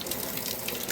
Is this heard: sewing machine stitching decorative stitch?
no